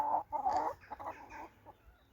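Hens in a backyard flock of about twenty-two laying birds, an Araucana among them, clucking in a few short close bursts that thin out into quieter scattered cackles.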